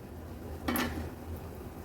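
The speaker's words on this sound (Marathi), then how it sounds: "अर्धा मिनिट झाला आहे, आता झाकण काढून घेणार आहोत" A lid lifted off a frying pan of malpua batter on a stovetop, a single brief metallic clink, close and fairly soft against a low background hum.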